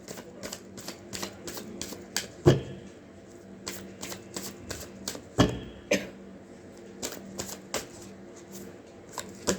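Tarot cards are shuffled and drawn from a deck, giving a rapid run of crisp riffling flicks with a few louder slaps as cards are pulled, close up and without talk.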